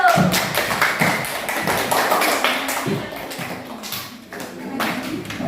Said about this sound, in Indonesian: Ayo tepuk tangan untuk kelompoknya Astrid dulu